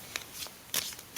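A deck of cards is shuffled during a live stream, with crisp riffling bursts in three quick, short clusters separated by brief pauses, close and alone.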